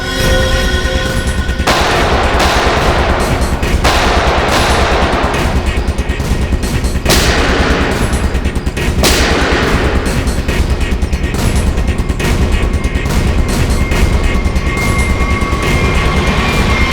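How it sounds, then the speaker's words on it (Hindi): Rapid gunfire in a TV crime drama shootout near an island jail, repeated bursts of shots crackling over a loud, continuous rumbling background for the whole stretch, with no speech. "वहां से चल रही है गोलियां।"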